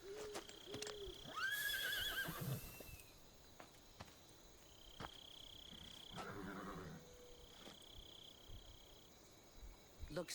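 A white horse whinnies loudly in the synthetic soundscape of Metal Gear Solid 3: Snake Eater, a high shrill neigh followed later by a second snorting whinny, with tonal effects humming around it.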